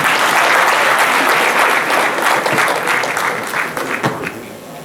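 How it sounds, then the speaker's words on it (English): Audience at a management and entrepreneurship conference applauding a professor: dense, steady clapping from a large crowd, close and loud, tapering slightly toward the end. "Please, another round of applause for him."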